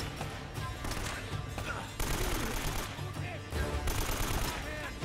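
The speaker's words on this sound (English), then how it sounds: "Who else is shooting at me, though?" Enemy gunfire in Uncharted: Drake's Fortune, rapid machine-gun bursts and scattered shots hammering in pulses at moderate distance, with a crash among them and no speech.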